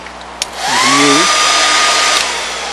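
Hair dryer blowing on glue on a puppet's mouth plate, switching on after a click and running as a loud, steady whoosh with a rising whine, alone with no talk.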